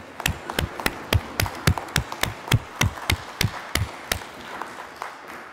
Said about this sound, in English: let's give ourselves a clap, and you can stamp your feet